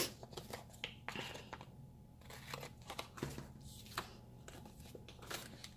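Scissors trim excess washi tape on a paper planner page: a series of close, quiet snips and papery crinkles, irregular and spread through a hushed room.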